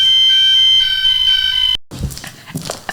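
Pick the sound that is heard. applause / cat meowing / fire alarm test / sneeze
fire alarm test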